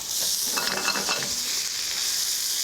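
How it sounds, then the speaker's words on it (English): Garlic and cheese toasting in extra virgin olive oil in a pan, giving a steady, close hiss of frying with light stirring scrapes through the first half, no voices. "and some extra virgin olive oil and just give it a quick toast"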